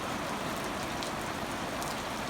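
Heavy rain falls straight down with no wind over a pasture in a thick, even hiss, with scattered drops pattering close by and no talking.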